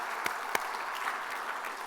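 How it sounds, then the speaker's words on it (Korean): A church congregation gives a short burst of applause in praise, steady overlapping clapping with a couple of sharper near claps near the start. "우리 하나님께 영광의 박수 올려드립니다."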